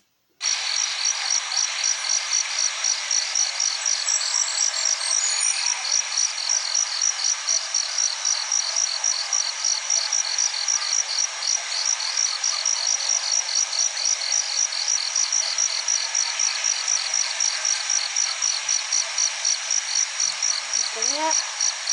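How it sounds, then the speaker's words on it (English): Steady, pulsing cricket chorus from the Five Nights at Freddy's video game, a fast rhythmic trill held at an even, fairly loud level for the whole stretch with no other sound over it. "Crickets."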